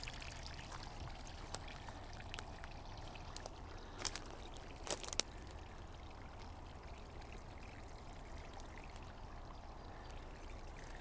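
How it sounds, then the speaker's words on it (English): Water trickles and pours gently through a small water feature among boulders at Santee, California, in a steady outdoor stream, with a few sharp clicks and bumps near the middle and no talk. "I did not expect to see a little water feature here"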